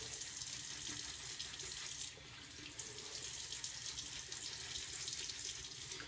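A bathroom faucet runs steadily for about six seconds while beard wash is rinsed out, a broad, even hiss of water with a slight dip partway through and no talking.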